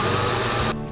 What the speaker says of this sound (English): Once everything is in the blender, we're just going to turn it on.